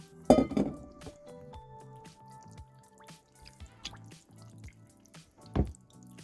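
Garlic-and-pineapple marinade poured over venison for jerky, wet dripping and splashing with small clinks of glass or dish, a louder splash near the start and another near the end, no talk.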